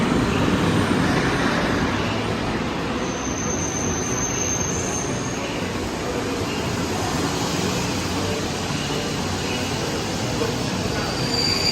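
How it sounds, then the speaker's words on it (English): A PKP Intercity passenger train rumbles steadily into a platform in Poland, wheels grinding on the rails with a brief high squeal, the sound holding at a constant moderate level. "Here comes the train now."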